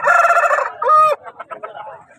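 A fighting rooster at a Punganur rooster market crows loudly and close, one long strained call that breaks off into a few ragged trailing notes, with faint background murmur.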